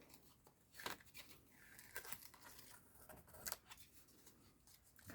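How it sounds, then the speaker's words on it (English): Masking tape being peeled off paper in a painting: faint, soft tearing and crinkling strips, a few short rips close by in a quiet room. "Right, now I can take the tape off."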